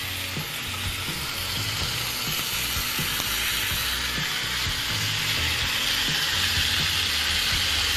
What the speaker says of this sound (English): You hear them down in there sizzling, talking to each other.